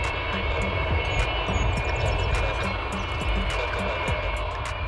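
Jet engines of the Antonov An-225 Mriya, a huge Ukrainian-built cargo aircraft, give a steady, loud broadband roar with a constant whine throughout, no voices present.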